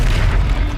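A Confringo fire spell explodes in the video game Hogwarts Legacy as a loud, deep, rumbling boom that fills the whole short moment with heavy low-end energy.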